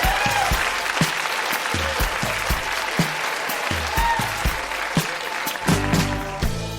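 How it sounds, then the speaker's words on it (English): Steady applause from the audience at a live storytelling reading night in Toronto, loud and continuous with individual claps standing out and some murmuring voices mixed in. "Huge round of applause for everybody who read tonight."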